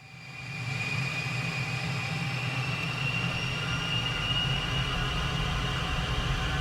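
Twin turbofan engines of an A-10C in Microsoft Flight Simulator 2024 spool up to about three-quarter power, a steady rising whine and broad roar that swells in the first second, then holds constant and loud.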